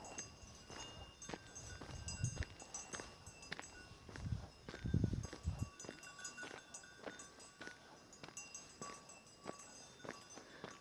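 Cows walk through a remote village with soft, irregular hoof thuds and shuffling, fairly faint and close, with a few heavier steps midway and no talking.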